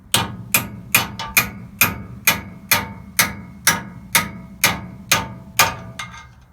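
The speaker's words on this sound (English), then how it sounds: "grab a bigger hammer" Steady, evenly spaced blows of a large hammer on metal, about a dozen sharp strikes ringing out close by with no talking.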